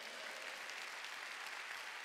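Congregation at a Wednesday church service claps together in a brief, fairly quiet burst of dense applause, heard alone for about two seconds.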